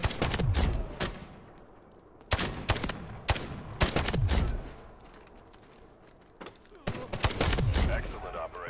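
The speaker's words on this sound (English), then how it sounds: "This gun is very loud." Loud automatic gunfire in the shooter Delta Force, several sharp bursts of rapid shots separated by brief quiet gaps, close and dominant.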